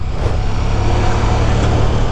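Riding aboard a 2021 KTM 1290 Super Duke R motorcycle in standard ride mode, with a steady loud engine drone and low rumble mixed with wind rush, continuous and close throughout.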